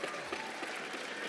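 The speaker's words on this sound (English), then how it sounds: "So can we please give a round of applause?" Audience applause at a mining industry awards ceremony, a steady, dense wash of clapping from a crowd that holds evenly through the short moment with no voices over it.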